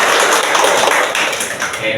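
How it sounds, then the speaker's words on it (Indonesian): A group of nursing students applauds at the end of a group activity therapy session indoors, giving dense, continuous clapping that stays loud and close for the full two seconds. "Oke, tepuk tangan dulu."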